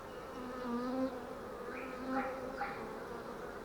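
Honeybees buzz continuously around open hive frames in a soft, droning hum, with individual bees rising and falling in pitch as they move close by.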